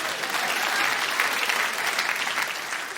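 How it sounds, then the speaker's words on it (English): Dense, steady applause from a comedy club audience carries through the whole stretch, loud and unbroken with no voices over it. "Yeah, you applaud."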